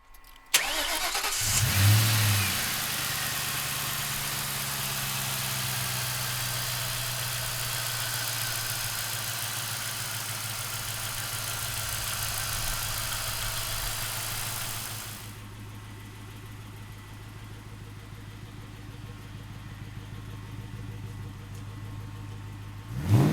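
A 2003 Ford Mustang SVT Cobra V8 engine cranks and fires up, settling into a loud, steady close-up idle with a deep low rumble that drops slightly in level partway through, no talking over it.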